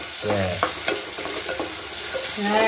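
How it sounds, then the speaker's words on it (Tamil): Cut tomatoes sautéing in a pan before grinding: loud, close sizzling with repeated scraping stirs and clinks of a utensil, no speech over it. "இப்போ வந்து தக்காளி பழம் சேர்த்துறேன் இதுல. இது அரைக்க தான் போறோம். அதான் நல்லா வதக்கி அரைச்சிக்கணுமா?"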